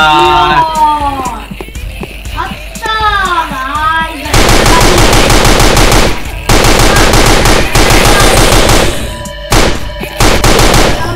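Loud automatic gunfire rattles in long sustained bursts with brief pauses in the shooting video game Invention 3, following a stretch of talking at the start.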